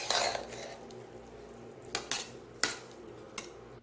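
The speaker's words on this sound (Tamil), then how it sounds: "நல்லா அடியோடு அந்த கிரேவியில் மிக்ஸ் ஆகிற மாதிரி கிளறி விட்டுட்டு நம்ம தம் போட்டுடலாம்" A spoon scrapes and clinks against a pot while biryani rice is stirred into gravy, a soft continuous scraping broken by a few sharper metallic knocks.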